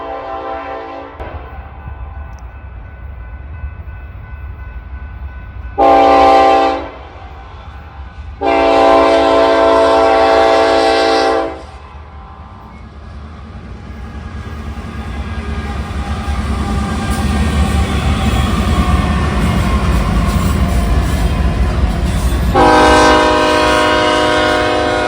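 Norfolk Southern NS28N intermodal freight train bound for Charlotte, North Carolina, passing in central Ohio: loud sustained horn blasts, a short one then a long one, followed by a rising roar of the train rolling by and a final horn blast, no talk.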